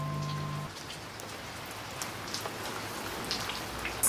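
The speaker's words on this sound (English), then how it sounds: "A rainy day can be fun, too." Steady rainfall on a rainy day, a dense soft patter of drops hitting surfaces throughout, with a brief tonal sound at the start and a few sharper drips standing out.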